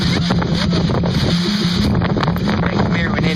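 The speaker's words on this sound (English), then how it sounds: "It's getting windy." Strong wind gusting ahead of an approaching supercell thunderstorm, buffeting the microphone with a steady, loud, rumbling roar that stays constant throughout.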